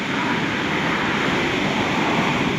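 Ocean surf surges into lava rocks at a spouting horn, a loud, continuous broadband roar of rushing water and spray with wind buffeting the microphone.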